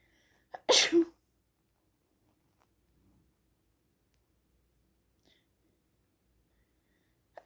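One loud, close sneeze from a person rings out early, followed by near silence with only faint small noises.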